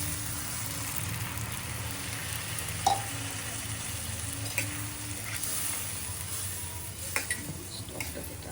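Spice masala sautéing in oil for a Chitol fish muitha, giving a steady close sizzle with occasional light clinks and stirring scrapes throughout.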